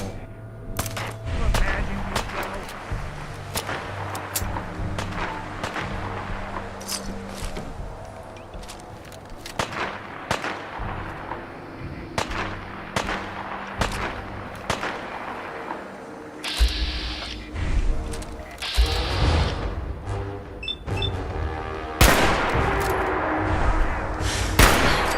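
Grenade explosions and gunfire in the video game Fallout 4, sharp repeated bangs and cracks scattered irregularly across a busy, loud battle mix with music underneath, building to denser blasts near the end.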